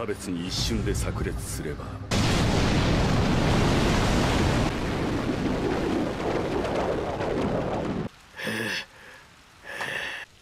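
A fiery anime explosion roars as a dense, loud blast of rumbling noise that sustains for several seconds, set between short stretches of dramatic voices.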